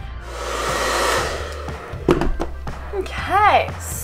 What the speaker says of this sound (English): So I'm just gonna quickly blow dry a bit of that.